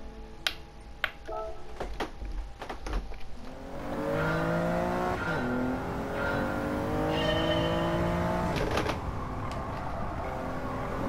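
A car engine in Gran Turismo 7, an all-wheel-drive car, idling with a few clicks and then revving up and accelerating steadily through gears, a continuous droning whine that rises and falls.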